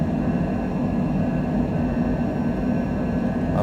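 Steady, loud broadband roar of a Cessna Citation Longitude business jet climbing out just after takeoff from Las Vegas, heard continuously from inside the aircraft with no talking.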